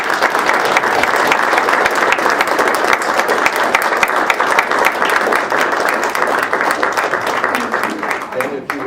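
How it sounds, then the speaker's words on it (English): A city council meeting audience applauds a group of honorees with sustained, dense clapping that stays loud and steady throughout before tapering slightly at the end. "perhaps it's appropriate at this point to give them a round of applause"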